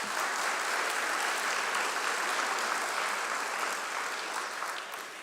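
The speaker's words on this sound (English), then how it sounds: "Big round of applause" Sustained audience applause at a university white coat ceremony, a dense, steady wash of clapping from a large crowd that holds evenly for several seconds, with no talking over it.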